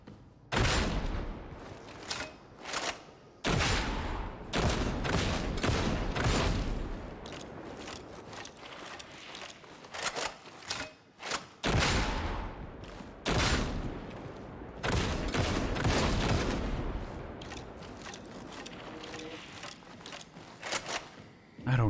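Repeated bursts of gunfire in the co-op shooter Darktide, loud, broadband cracks with short gaps and a slow, one-at-a-time reloading rhythm, some mechanical clacks, with occasional voices over the action.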